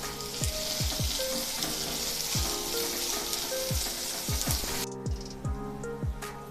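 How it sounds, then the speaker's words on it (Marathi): Thinly sliced onions frying in oil in a pan, a constant bright sizzle broken by repeated scraping stirs, close up, with the sizzle dropping and softening near the end. "दोन मध्यम आकाराचे उभे पातळ चिरून घेतलेले कांदे काढून घेऊया आणि हे सुद्धा छान लाल रंग येईपर्यंत आपण भाजून घेऊया"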